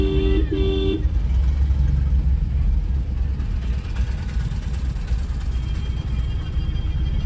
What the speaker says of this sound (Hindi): आज इधर मेला है, इसलिए इतना ट्रैफिक जाम हुई है।